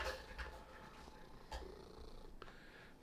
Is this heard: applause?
no